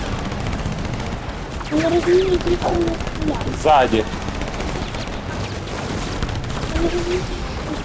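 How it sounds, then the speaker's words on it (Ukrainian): Rapid bursts of gunfire in the video game Split Fiction crackle continuously under people talking, with a few louder volleys standing out from the steady shooting. "В нас стріляє."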